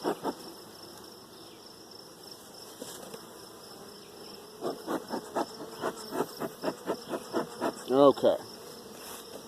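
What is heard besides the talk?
honey bees in a hive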